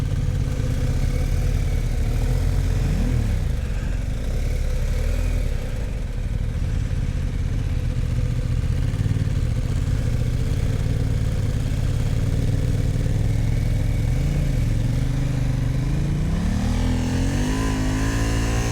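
A motorcycle engine labors through deep Florida sand, holding a steady mid-pitched drone with occasional revs rising and falling as the rider feathers the clutch, loud and close throughout.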